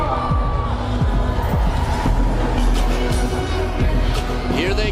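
Large arena crowd at a table tennis final cheering and whooping with steady loud applause, under continuous nearby talk and a thumping low beat.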